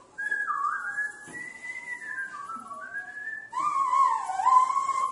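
A Maasai man whistles to his cattle, a wavering, melodic tune in several sliding phrases, close and clear with no other sounds.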